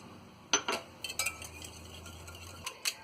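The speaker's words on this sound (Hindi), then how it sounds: "अब इसे हम अच्छी तरह मिक्स कर लेंगे।" A utensil clinks and scrapes against a bowl while egg and milk coating mixture is mixed, giving a handful of bright, irregular taps and clinks that are close but fairly soft.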